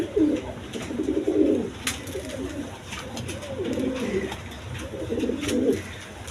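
Pigeons kept by a seller, a breeding pair among them, cooing in repeated low, throaty phrases close by, with faint background noise and no talking.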